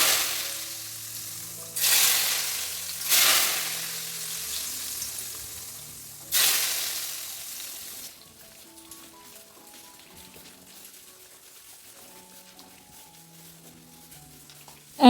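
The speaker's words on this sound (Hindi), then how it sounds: "and I really love this sizzling sound" Hot oil is poured over tikkas for a tadka, giving three loud sizzling bursts that fade away before soft background music takes over.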